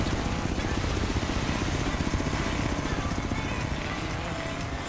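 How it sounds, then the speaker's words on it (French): A helicopter trailing behind a car in the racing game Forza Horizon 3, with a loud, rapid rotor thudding over a constant engine roar, steady and close throughout. "un hélico bien derrière nous pour le moment"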